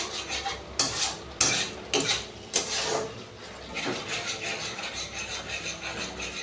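A utensil stirs onion and garlic in a pan while cooking butter chicken, giving a few sharp scrapes and clinks early on, then a softer continuous scraping and light sizzle, close and alone without talk.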